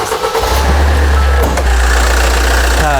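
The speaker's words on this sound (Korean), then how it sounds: "아, 역시 디젤차는 시끄럽긴 해요." A Hyundai Santa Fe DM diesel engine runs at idle with the hood open, a loud, close, steady low rumble with a rough clattering diesel texture.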